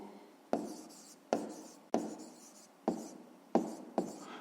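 Chalk or pen strokes writing out a maths solution for a fifth-grade problem, six sharp scratchy bursts each trailing off, close and clear with no talk.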